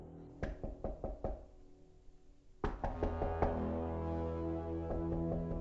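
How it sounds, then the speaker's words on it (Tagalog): Knuckles rap on a bedroom door in quick, repeated clusters, close and sharp, followed by a louder round of knocks ringing over a sustained eerie tone. "may narinig akong paulit-ulit na katok sa pinto ng kwarto ko"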